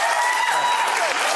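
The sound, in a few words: audience applause for healthcare as top issue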